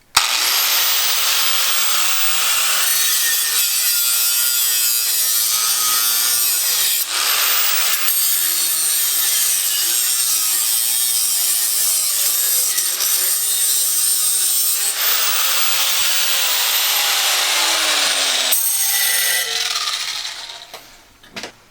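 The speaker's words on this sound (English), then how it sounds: "now we're going to be cutting straight down through this, just aluminum, with the Hyper Tough." A Hyper Tough angle grinder cuts straight down through aluminum, a loud, harsh continuous grinding whine with slight shifts in pitch over about twenty seconds before it spins down at the end.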